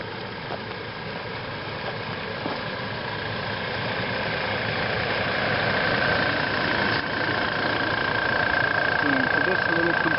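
A small air compressor drives an air lift pump for a 180-foot well, giving a continuous, fairly loud motor hum with a faint high whine that grows slightly louder over ten seconds, and a voice talks over it.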